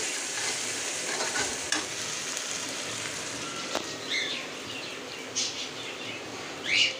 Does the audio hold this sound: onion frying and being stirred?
yes